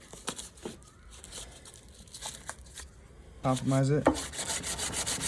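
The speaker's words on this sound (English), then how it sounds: "At this point, I'm gonna sand the face." Hand sanding across the face of a classical guitar headstock during a repair, with a run of short, rough rasping strokes at close range, then a brief spoken remark over continued scraping.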